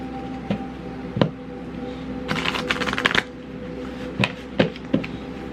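Cards handled for a card reading: scattered soft taps and snaps, then a brief riffling shuffle, then a few more crisp clicks, all close and fairly quiet with no talking.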